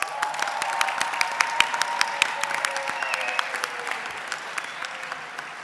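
Steady applause from an audience at a Model UN conference closing ceremony, honoring faculty advisors and parents; dense, sustained clapping of many hands filling the room at an even level throughout.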